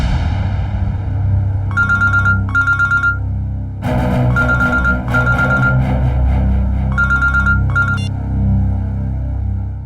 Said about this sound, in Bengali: জিনিস টিকুদাকে বেচে দিয়েছিলাম, আর তারপর আমার কাছে ওই ব্যাগটাকে ফেরত দেওয়ার জন্য ফেক নম্বর দিয়ে হুমকি দেওয়া ফোন আসছিল